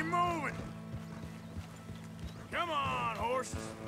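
Horse hooves clip-clop at a gallop during a horse-herding ride in the Red Dead Redemption 2 video game, with a steady drumming of hoofbeats and short whinnies. Game music and character voices sit over them.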